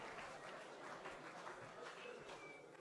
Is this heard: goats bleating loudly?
no